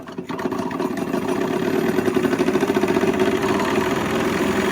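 A Wilesco D18 toy steam engine runs steadily near the microphone, a continuous mechanical chugging hum with a fast, even pulse throughout and no talking.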